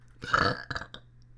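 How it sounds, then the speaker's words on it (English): A single loud, drawn-out burp from a person close to the microphone, rising from a quiet room and trailing off into a couple of shorter gulping bursts, with no talking over it. "Oh, I need a burp."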